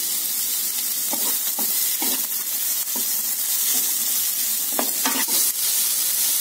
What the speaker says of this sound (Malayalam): അപ്പൊ സവാള ഇട്ട് കൊടുക്കുകയാണ് സവാള വതങ്ങി വരാൻ ചെറിയ കുറച്ച് ഉപ്പിട്ട് കൊടുക്കുകയാണ്